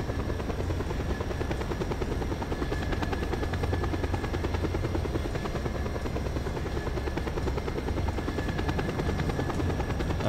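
A helicopter flies in Just Cause 2 with a continuous, loud rotor thrum and engine drone that stays steady and close throughout.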